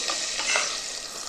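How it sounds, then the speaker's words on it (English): Onions sizzle steadily in butter and oil in a hot pan, a close, continuous frying hiss with light stirring. "get your onions in there, and you just want to hear a very subtle sizzle."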